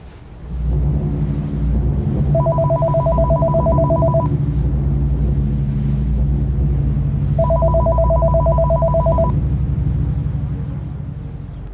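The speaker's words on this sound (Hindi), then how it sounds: "मेरा फ़ोन बज उठा।" A mobile phone ringtone plays loud and close in two repeated bursts of bright, steady tones over a constant low engine-like rumble.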